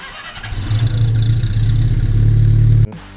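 A Datsun 140J engine fires on its first start in 20 years, catching into a steady, loud rumbling idle with rising revs for about three seconds before cutting off abruptly, close by with no talking.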